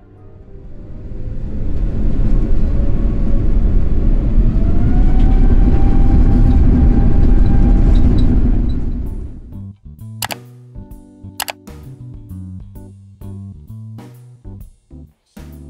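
A Singapore Airlines Airbus A350 thunders through its takeoff roll from Bangkok: a loud, steady jet roar builds over several seconds and holds, then fades out and gives way to other sounds.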